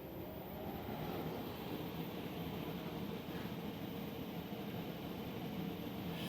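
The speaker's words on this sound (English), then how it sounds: "we can start the spindle" Steady, continuous whir of a machine spindle spun up for marking slots on a custom pulley cover for an Indian Scout motorcycle, a constant drone holding at even loudness throughout with no talk.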